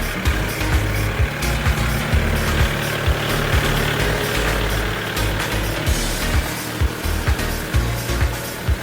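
A Kubota L4018 40-horsepower tractor engine idles nearby with a steady low rumble and rhythmic thumping knocks, loud and unbroken throughout.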